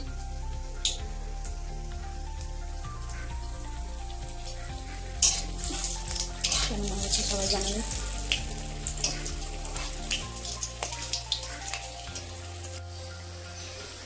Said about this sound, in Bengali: দুটো চপ দেওয়া হয়েছে তেলে, আর দুটো ভাজা হয়ে গেছে।